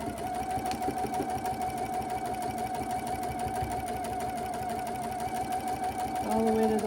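A sewing machine back stitching through a quilt runs with a steady, close, continuous whir and rapid needle rhythm throughout, its pitch rising briefly near the end as it speeds up.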